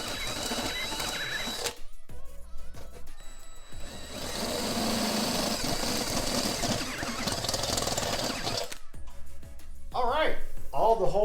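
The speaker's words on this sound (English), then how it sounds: "all I have left to do is just drill out the fenders" Power drill boring holes in the fenders of a Mitsubishi 3000GT VR4 during a Retrospec widebody kit install, a loud steady mechanical grinding running several seconds between quieter moments of handling.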